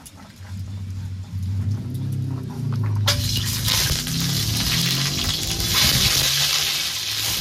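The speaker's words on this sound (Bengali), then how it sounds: "তেলটা গরম হয়ে গেছে, এবার ডিমগুলো ভেজে নেব" Eggs dropped into hot oil in a wok: quieter knocking and handling at first, then a sudden loud burst of sizzling at about three seconds that continues strong and close to the end.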